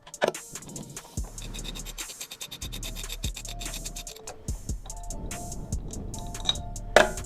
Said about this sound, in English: take your 5mm Allen key, come up to the front of the tank, and start taking these bolts off